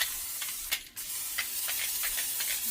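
Cooking spray hisses into a casserole dish in short, close bursts, a soft airy spritzing repeated several times with brief gaps between, no talking.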